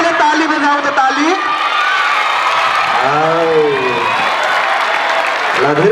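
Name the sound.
audience clapping hands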